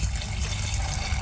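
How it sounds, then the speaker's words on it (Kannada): Water pours steadily into a pressure cooker holding chickpeas and salt, a continuous close splashing fill with no talk over it. "ಬೇಯಲಿಕ್ಕೆ ಎಷ್ಟು ನೀರು ಬೇಕು ನೋಡಿಕೊಂಡು ಹಾಕ್ಕೊಳ್ಳಿ."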